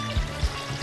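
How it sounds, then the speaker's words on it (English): Water pours from a container over leftover vegetable scraps in a pot to make stock, a short, soft splashing trickle with a couple of low gurgling bursts. "to make the vegetable stock, all I have to do is cover these things with water"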